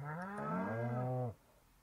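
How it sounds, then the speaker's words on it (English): A cow lows once in the farming game Stardew Valley, a single drawn-out, clear moo lasting about a second before quiet. "And how are our moo cows doing?"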